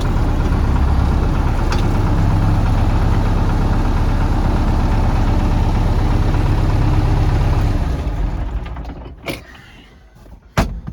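An MTZ tractor's diesel engine idles loud and close with a steady throbbing rumble for about eight seconds, then shuts off, leaving a few faint knocks and clanks.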